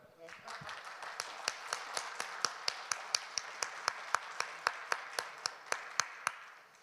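An audience at an international forum on kleptocracy and illicit financial flows claps in a steady, evenly spaced rhythm for about seven seconds. The sharp, regular claps sound close and build slightly in strength before stopping.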